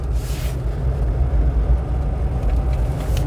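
A classic Citroen GSA pulls away from a standstill in a car park, its engine giving a deep, steady, close rumble that holds level throughout, with no speech.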